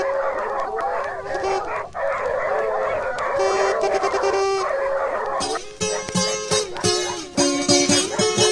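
Several hunting dogs bark excitedly and continuously on a wild boar hunt, with yips and whining howls overlapping in a loud, close chorus.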